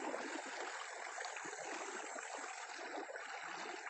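Swift, swollen stream water rushing steadily and loudly nearby, a dense continuous roar of flowing current with no pauses.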